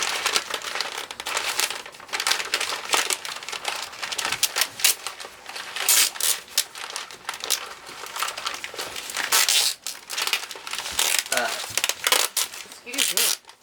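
Sheets of paper crumpled and crushed by hand in a home kitchen, giving a dense, continuous crackling that runs nearly the whole time. Loud and close, with people talking over parts of it.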